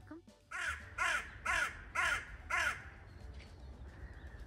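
Crows caw five times in an even, rhythmic series, loud and fairly near, around a waterside spot with seagulls, ducks and swans, followed by quieter ambient noise.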